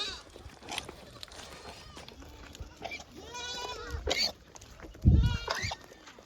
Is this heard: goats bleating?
yes